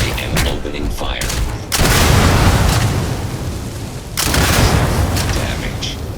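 Gunfire in the video game Starfield comes in two loud bursts of rapid shots and booms, each lasting a couple of seconds, with game sounds in between.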